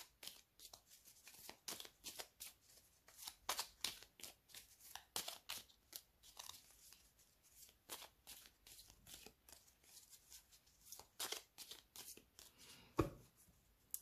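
A deck of oracle cards is shuffled by hand, quiet and close, in repeated papery riffles and slides with brief pauses between bursts and a single sharper tap near the end.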